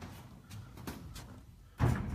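A door in a supposedly haunted hairdressing salon is pushed shut during a nighttime paranormal investigation, with a few soft knocks and creaks ending in a louder closing thud near the end.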